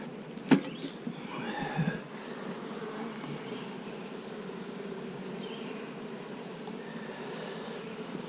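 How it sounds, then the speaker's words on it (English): Honey bees fly into an empty wooden hive box and fill the air with a steady, close buzzing hum, punctuated early on by a sharp knock and a few faint clinks. "Look at them bees coming into that empty box already."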